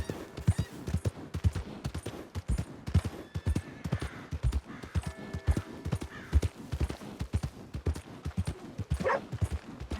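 A horse urged on in Red Dead Redemption 2, hooves clip-clopping in a steady, close rhythm throughout, with a short snort or whinny near the end.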